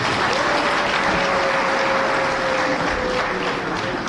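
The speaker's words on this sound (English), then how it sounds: "Let's give him a bigger clap." Sustained, dense applause from a large crowd at an outdoor political rally in Mount Kenya, steady and loud throughout with a faint whistle-like tone riding over the clapping.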